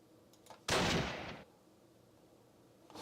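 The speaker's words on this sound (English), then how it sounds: "what is shooting at what?" A single loud blast of gunfire or artillery from the Arnhem battle in the Close Combat: Last Stand Arnhem war game bursts out and fades quickly, with faint distant shots around it.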